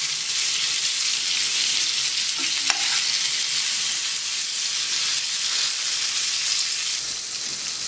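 Chicken pieces marinated for oven-free tandoori fry in a pan with a little oil, giving a steady, loud broadband sizzle that runs alone throughout, with a faint utensil click near the middle.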